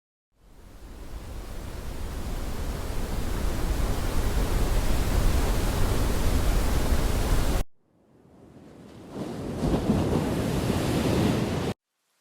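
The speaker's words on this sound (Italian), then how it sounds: "ad esempio col rumore delle onde" Ocean waves soundscape played through Jabra Elite Active 75t earbuds, a steady rushing wash of surf noise that cuts out briefly and then resumes, with no talking.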